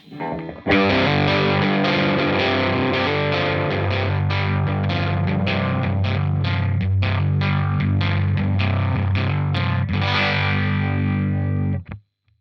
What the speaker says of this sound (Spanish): el Dr. Robert no es solo un pedal de distorsión